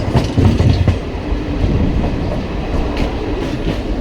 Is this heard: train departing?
yes